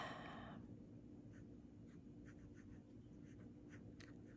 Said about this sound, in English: you turn the whole nib around and do reverse writing